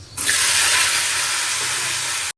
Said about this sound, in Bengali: আর এই যে আলু ভাজা চাপাবো।